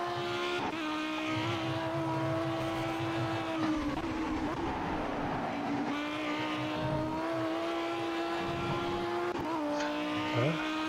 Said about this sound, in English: Really starting to wind on those higher revs.